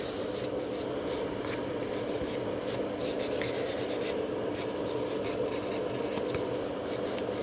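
A nail file rasps across fingernails in continuous, close, scratchy strokes with a steady rhythmic texture, with no talking.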